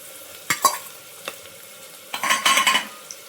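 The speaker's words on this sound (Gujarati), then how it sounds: "હવે જો થોડીક વાર ડુંગળી સંતળાઈ ગઈ આપણી થોડીક ગુલાબી રંગની થઈ ગઈ એટલે હવે આપણે નાખી દઈએ એની અંદર લીલા મરચાં" Onions sauté in a pan as green chillies go in for Kathiyawadi vaghareli khichdi, giving a soft sizzle. Sharp spoon scrapes and stirring clatter come in short bursts, and the busiest stretch falls toward the end.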